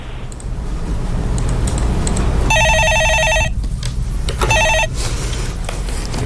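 A telephone rings in electronic bursts over a steady background hum at a stock-market call-in broadcast, two ring bursts with a short gap before the call is picked up.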